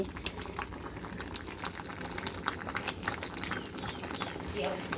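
A large pot of mushroom curry bubbling at a steady boil outdoors, with a continuous close burbling and popping texture while voices talk over it.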